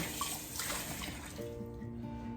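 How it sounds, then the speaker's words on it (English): Running water splashing from a kitchen sink while a measuring cup is rinsed in soapy water, a close, continuous wash that settles into a steady tap hum toward the end. "I'm gonna rinse out this. I put it in the soapy water."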